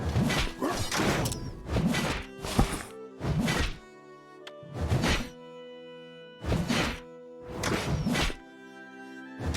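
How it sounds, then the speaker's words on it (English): Cracks break into an altar in the Dungeons 2 video game, a series of loud crashing, thudding impacts in irregular bursts over a quiet, sustained musical drone. "The first cracks appeared in the altar."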